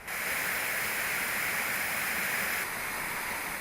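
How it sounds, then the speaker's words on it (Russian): A 37-metre waterfall in the mountains of Ingushetia, a steady, dense roar of falling water, loud and unbroken like rushing white noise, heard close with no voices. "Сегодня это крупнейший водопад в Ингушетии."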